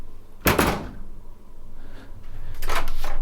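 A hotel room door opens, giving a sharp handle click and thump near the start and another broadband rattle of door hardware near the end, heard up close over a low room hum.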